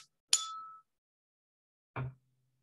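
Tabletop struck by hand in a quiet classroom, giving two isolated knocks with a brief ringing tone, the second lower and duller, both faint and close with silence between.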